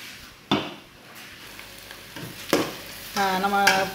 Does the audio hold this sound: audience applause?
no